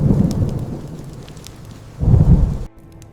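A thunderstorm roars with steady heavy rain, and deep rumbling thunder swells loudly at the start and again near the end before cutting off abruptly.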